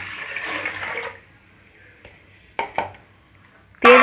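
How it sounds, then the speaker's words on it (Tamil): Water, two and a half glasses, pours into a rice pot for pongal in a brief gushing burst, followed by a few light clinks of the pot and another short splash at the end. "தண்ணியை சேர்த்துப்போம்"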